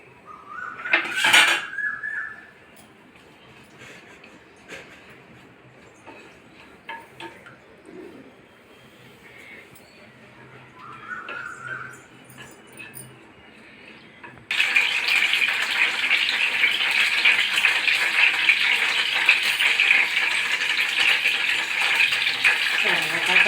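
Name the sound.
curry leaves sizzling in hot oil for fish curry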